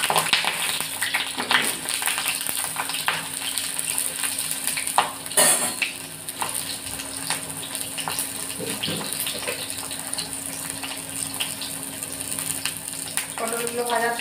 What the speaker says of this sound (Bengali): এই তেলটা গরম হয়ে গেলে আমি পটলগুলো আগে ভেজে নেব।